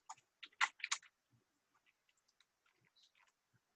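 Sparse clicks and taps on a computer keyboard, a quick burst of louder strokes at the start and then scattered light keystrokes trailing off, close by and with no talk.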